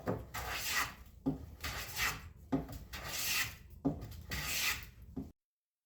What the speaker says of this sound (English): I love the sound the plane makes when cutting